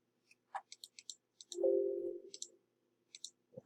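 A computer mouse clicking in small sparse clusters of crisp, quiet taps, broken by a short low hum and with no one speaking.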